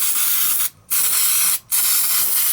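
Carb cleaner sprays in loud, close hissing bursts onto a Lawn Boy 4651 mower engine, with two short gaps breaking the steady blast.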